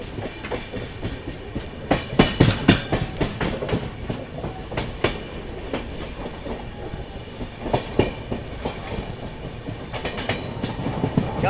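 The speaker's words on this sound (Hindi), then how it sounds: "तब तक आप लोग ये देख लो WAG5 जो लाइट लोकोमोटिव है" Indian Railways WAG5 light locomotive running past on the line, heard from a halted passenger train: steady rumbling rail noise with repeated wheel clatter and metallic clicks, moderately loud and close throughout, with no speech.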